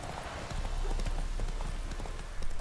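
Steady clip-clop of the horse Roach's hooves in The Witcher 3, a quick regular galloping rhythm, fairly close and continuous over a low ambient bed.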